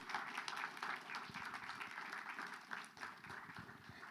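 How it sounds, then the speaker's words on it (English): Audience at a World IA Day conference in Los Angeles applauds the speakers, a dense, moderately distant round of clapping that holds steady for several seconds. "can we just get a round of applause for all the speakers today?"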